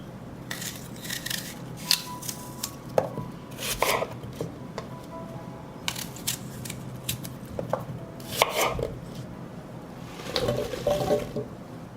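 Knife chopping onions on a board, irregular sharp taps in short bursts, moderately close, with faint clinks of kitchen dishes between cuts and no voice.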